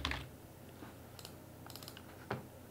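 Keys on a computer keyboard tap out a short folder name: a few sparse, quiet clicks spread unevenly across a couple of seconds in a still room, no one speaking.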